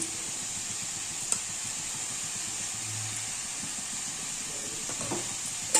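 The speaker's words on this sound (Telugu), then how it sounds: "సో దీనిలో కొంచెం అల్లం వెల్లుల్లి పేస్ట్ వేసుకుంటున్నాను" Ginger garlic paste sizzles in a pan of cooking carrot capsicum curry, a soft steady frying hiss with faint stirring clicks.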